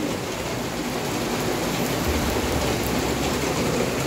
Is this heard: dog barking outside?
no